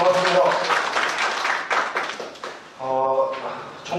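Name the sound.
audience applause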